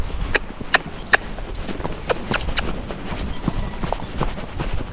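Hooves of a gaited Standardbred horse beat steadily on an outdoor trail, a quick even rhythm of close, distinct clip-clops over windy background noise.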